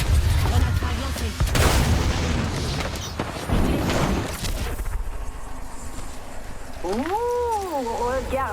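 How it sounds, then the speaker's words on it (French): Frag grenades in a video game go off in two heavy, booming blasts a couple of seconds apart, followed by a rumbling tail, with game voices talking in the background afterward. "Grenade frag lancée."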